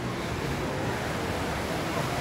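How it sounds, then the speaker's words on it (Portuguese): Atlantic Ocean surf at Puerto de la Cruz, Tenerife, washes in a continuous broad roar, steady and close, with wind across the microphone. "O Oceano Atlântico."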